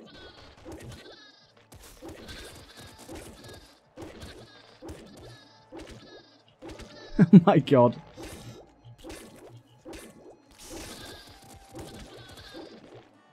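In the Nuclear Throne Ultra Mod video game, enemies turned into golden sheep give a short burst of loud bleating in the middle of rhythmic game sound effects, with someone talking over the gameplay.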